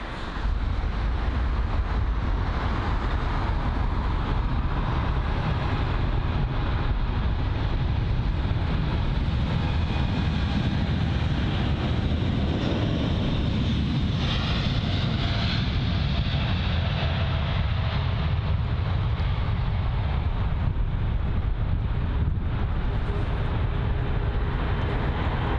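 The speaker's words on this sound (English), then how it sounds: "on the runway now is the Boeing 787 Dreamliner" A Boeing 787-8 Dreamliner on the runway at London Heathrow, a steady broadband engine roar held at even loudness for the whole stretch, distant and continuous, with no voices.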